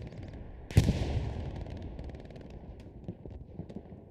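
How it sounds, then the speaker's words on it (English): A loud explosion booms at close range in the Hell Let Loose video game, a tank battle in open fields, followed by scattered distant gunfire cracking and popping through the rest of the moment. "With multiple explosions from both sides coming out."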